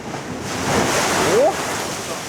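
Floodwater waves driven by a northeast wind wash and surge, with wind buffeting close to the microphone, in a brief, rushing burst.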